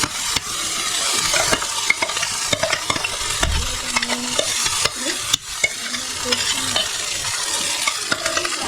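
A paste of onion, almond and cashew fries in ghee with a steady, dense sizzle, broken by scraping stirs and small pops, close and fairly loud with no voices.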